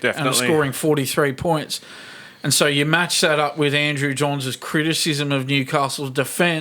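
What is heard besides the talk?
No distinct noise like a dog, phone or traffic.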